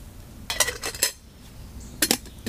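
A titanium camping pot lid goes back on in the woods, giving several light metallic clinks and rattles in two short bursts close by.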